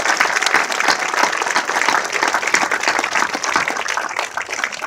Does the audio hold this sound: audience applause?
yes